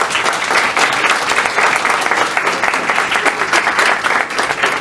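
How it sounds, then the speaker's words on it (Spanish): A dense, steady round of audience applause fills a university Library Day ceremony as an official is welcomed, many hands clapping evenly and close-up throughout without a break. "Recibámoslo con un fuerte aplauso."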